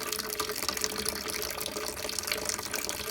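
Wort running steadily through the grain bed during home brewing, a continuous close splashing pour of liquid with no break.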